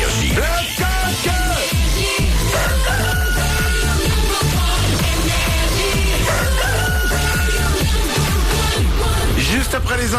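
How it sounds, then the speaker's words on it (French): In a morning radio station jingle, a rooster crows amid a loud, dense music bed with other barnyard-like calls, the crow blended into the busy produced mix. "qu'on amène le coq et qu'on le fasse chanter"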